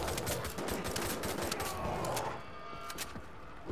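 Rapid gunfire in the video game Wolfenstein The New Order, a loud continuous barrage of shots over roughly four seconds that eases slightly near the end.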